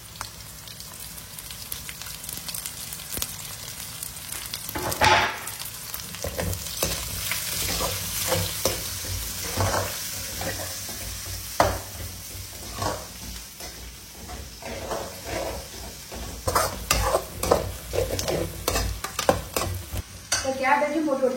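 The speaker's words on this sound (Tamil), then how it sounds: "கேபேஜும் போட்டு ஒரு 30 செகண்ட்ஸ் வதக்கியாச்சு" Cabbage and capsicum stir-frying on full flame for Maggi noodles, heard as a continuous loud sizzle with repeated sharp scraping and clacking stir strokes, heaviest toward the end, with no voices.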